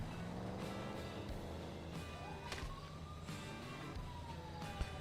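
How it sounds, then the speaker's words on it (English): A wailing ambulance siren in the video game FiveM sweeps up and down at a distance, steady and moderately faint, with soft thumps and background hum underneath. "See if I can get an ambulance to come."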